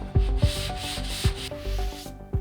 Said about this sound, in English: When sanding by hand, use a sponge with a medium grit.